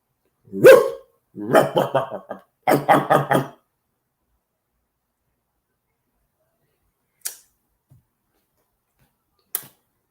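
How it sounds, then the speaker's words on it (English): A dog barks in a few quick bursts close by, followed by two sharp faint clicks after a long quiet stretch. "I'm gonna release my attack dog."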